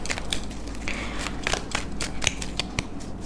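Tarot cards being drawn and handled, a steady run of close, crisp snaps, flicks and papery rustles as cards slide from the deck and are laid down.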